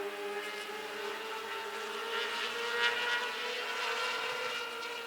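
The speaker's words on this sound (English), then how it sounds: "You hear those mostly Suzuki, GSXR engines coming to life around the speedway here" Race cars with mostly Suzuki GSX-R motorcycle engines circle Wiscasset Speedway, a steady, moderately distant engine drone that swells slightly midway without breaking off.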